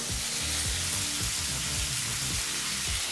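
Potato strips for aloo masala fry sizzle loudly in hot oil in a pan, a dense steady crackle and spatter filling the whole stretch with no voices.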